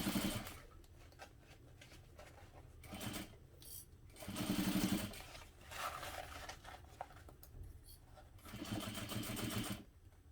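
A sewing machine stitches a seam in vinyl, running in several loud bursts of rapid mechanical whirring separated by short pauses and quieter handling sounds.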